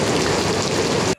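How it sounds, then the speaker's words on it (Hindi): Dense, heavy rain pours down in a loud, steady roar, then cuts off abruptly near the end. "बहुत ही ज़्यादा बारिश लग रही है"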